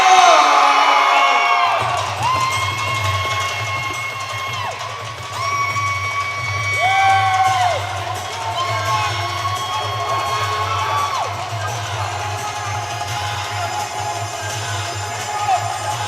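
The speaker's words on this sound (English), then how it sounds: "Crowd going, whoa, for their Lions Gym fight on GARON SHEMAR" A Lions Gym crowd cheers and whoops for fighter Garon Shemar as he is welcomed to the blue corner, a loud, sustained roar with rising shouts over a steady low hum, continuing throughout.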